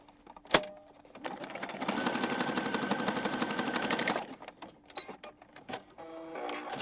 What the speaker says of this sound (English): I'm just going to sneak over here and zigzag stitch over this